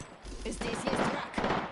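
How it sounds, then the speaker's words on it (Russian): Video game gunfire in Apex Legends: a quiet burst of rapid shots rattles off in quick succession, with a muffled low thump at the start, fairly faint overall. "Эй, я стреляю."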